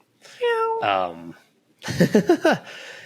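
A person imitates a cat, giving a couple of drawn-out meows, then after a pause a quicker run of meow-like vocal sounds, close and clear.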